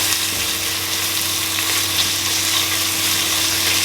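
Peppers and garlic sizzle loudly and steadily in a hot pan for a scarlet runner bean stew, a dense, even hiss close to the ear with no pauses and no voices.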